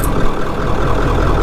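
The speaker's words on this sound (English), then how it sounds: "So we're gonna get the truck fired up." A diesel truck engine running steadily after being fired up, a loud, continuous low rumble that fills the whole stretch without pause, with no speech over it.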